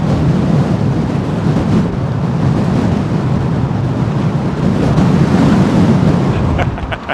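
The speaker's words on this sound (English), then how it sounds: "Let's just give you an idea how blustery it is here" Blustery wind at London Heathrow Airport, a loud, steady roar of gusts buffeting the microphone that continues without a break throughout.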